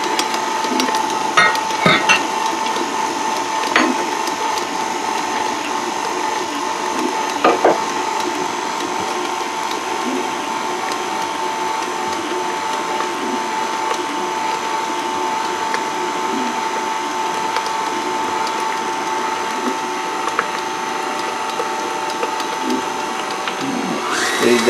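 Stand mixer steadily stirring cinnamon roll dough, a constant mechanical whir with faint clunks and knocks throughout, close and unbroken.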